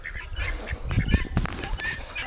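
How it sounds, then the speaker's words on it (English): Farm duck with an injured leg honking and quacking in scattered bursts, close and fairly loud, amid outdoor background noise. "This is Mr. Duck with the hurt leg"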